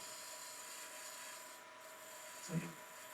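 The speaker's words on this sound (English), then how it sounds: "treat it like a scraper and put it right on its side and get a really nice scraping cut" A spindle roughing gouge held on its side as a scraper barely touches wood turning on a lathe for a lidded calabash, making a faint, steady scraping rasp over motor hum, with a brief louder scrape near the end.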